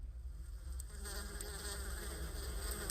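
Animated bees buzzing in a continuous, faint, even hum with no talk.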